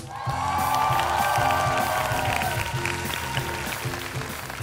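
Loud, steady applause and cheering from a singing-competition audience for a French singer, rising quickly and holding over band music that plays underneath throughout.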